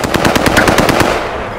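Rapid automatic gunfire in Call of Duty Modern Warfare, a loud close burst of about a dozen evenly spaced shots that fades into a short tail.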